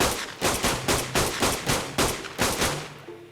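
Gunshots in the survival game ARK Survival Evolved, eight evenly spaced loud single shots fired in a steady rhythm, each with a short decaying tail, close and alone without talk.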